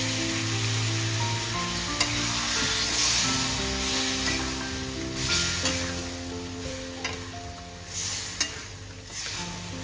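Water splashed into a hot pan of cooking spices, giving a loud, steady hiss and sizzle with scraping stirs and a few clinks over a constant bubbling bed.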